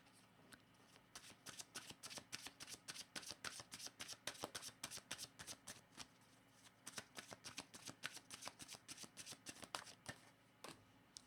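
Tarot cards are shuffled close by in quick, steady riffling flicks that repeat crisply for the whole stretch, pausing once briefly about halfway through. The sound is soft and intimate, with no talking over it.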